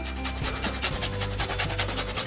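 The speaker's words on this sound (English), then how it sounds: "Now you grate your knob of ginger in." Fresh knob of peeled ginger rubbed against a grater, giving a quick run of rhythmic rasping strokes close to the mic, steady and fairly loud, with no talking.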